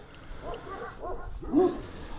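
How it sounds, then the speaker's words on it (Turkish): A female dog, raised by a breeder and filmed outdoors in bitter cold, gives a few soft, short barks and whimpers at moderate distance, with one sharper yip near the end. "Şu anda yanımdaki köpek yine kendi üretimim"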